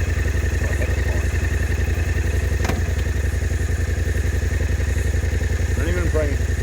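A Yamaha Ténéré 700 (T7) motorcycle engine revving hard while stuck on a hill, a steady loud low drone throughout, with a brief thump near the middle and a voice speaking faintly near the end.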